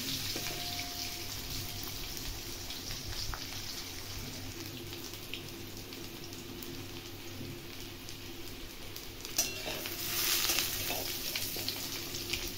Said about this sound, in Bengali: আমাদের আলুগুলো ভাজা হয়ে গেছে